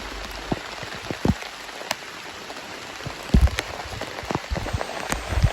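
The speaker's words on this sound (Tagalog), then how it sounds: "Grabe ang ulan." Steady heavy rain pours down over farm fields, a dense hiss broken by scattered sharp drips and patters hitting nearby surfaces, with no talking.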